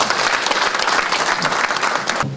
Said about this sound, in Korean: 김만수 부천시장님께 여러분 뜨거운 박수 한번 보내주십시오